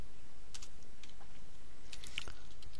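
Keys clatter on a computer keyboard as a page label is typed while a web page is built in Dreamweaver, giving brief clusters of quiet clicks in a short burst, close and soft with no talking.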